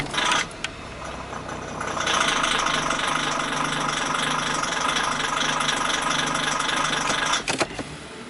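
A Hyundai car engine idles in gear with the transmission engaged, a steady mid-low hum that grows slightly louder partway through and holds evenly, with a couple of brief clunks near the end and no talking.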